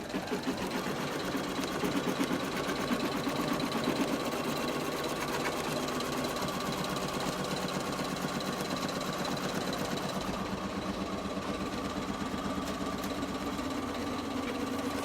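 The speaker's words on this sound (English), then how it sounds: "I'm going to check for questions while that's stitching" An embroidery machine stitches an appliqué onto a T-shirt with a steady, rapid mechanical chatter and hum that runs evenly throughout, moderately loud and close.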